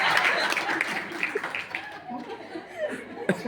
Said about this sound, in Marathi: दुसरं वाजवा टाळ्या नाही तुमच्या